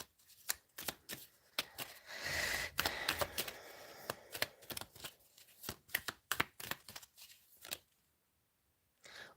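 Tarot cards being shuffled by hand, a close series of crisp riffling and snapping bursts with a denser flurry early on, trailing into silence near the end.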